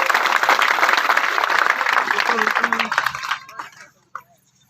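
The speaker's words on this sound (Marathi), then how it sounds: "त्यांच्यासाठी गेला टाळ्या वाजवायचं बरं" A seated crowd at a religious sermon gathering bursts into loud, continuous clapping that fades away after about three seconds, leaving a few scattered claps.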